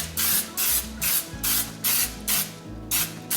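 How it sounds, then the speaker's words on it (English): Non-stick cooking spray hisses into a 9 by 13 inch baking dish in about seven short, even bursts, close and fairly loud, with soft music underneath. "with this good old non-stick spray"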